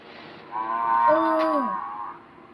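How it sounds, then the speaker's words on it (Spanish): A cow gives a single long, drawn-out moo close by, rising and then falling away, heard alone over faint background. "La vaca, la vaca."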